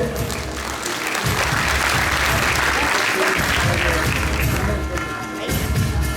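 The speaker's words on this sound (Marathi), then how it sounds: "प्रथम क्रमांकाचं पारितोषिक एकदा जोरदार टाळ्या झाल्या पाहिजे" Loud, continuous applause for first-prize winners at an inter-college prize distribution ceremony, a thick crowd of clapping that stays strong and even throughout, with a few heavier thumps near the start.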